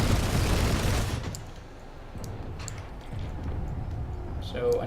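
Rapid gunfire from a Reaver aircraft in Planetside 2 rattles loudly for about a second, then fades into quieter game ambience with faint distant pops.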